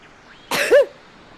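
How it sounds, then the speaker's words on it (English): A single sharp sneeze, close and loud, a brief burst of breath ending in a short voiced tail, then quiet. "I have to sneeze."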